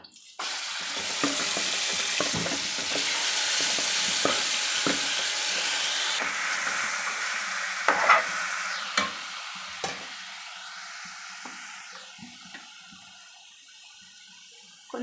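Marinated chicken dropped into a pan of frying onions and curry leaves, a loud burst of hissing that gradually dies down into quieter sizzling, punctuated by a few clanks of stirring against the pan.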